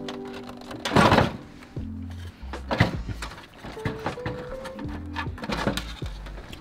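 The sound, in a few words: Xerox Nuvera developer housing being pivoted out of printer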